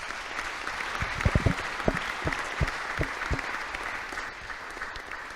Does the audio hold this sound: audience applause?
yes